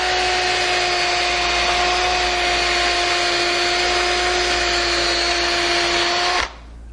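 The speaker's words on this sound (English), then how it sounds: "We're going to need that wire brush. And just, get your bandsaw marks out." A powered wire brush spins against wood to clear bandsaw marks from a five-board bench part, a loud steady whine with a constant hum that cuts off abruptly near the end.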